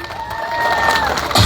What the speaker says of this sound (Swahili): wacha nisikie makofi ya Baby T